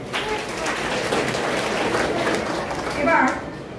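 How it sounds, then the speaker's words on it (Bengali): A crowd at a Kanyashree Day school celebration applauds the guests, a steady wash of clapping lasting several seconds and swelling near the end, with a voice talking over it. "বিদ্যালয়ে উপস্থিত সমস্ত অতিথিবৃন্দের জন্য আবারও একবার জোরে হাততালি হয়ে যাবে।"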